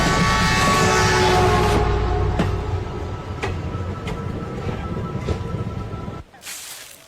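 Passenger train running steadily with a loud, continuous rumble and hiss, occasional sharp clacks over the rails, easing off near the end; no talk.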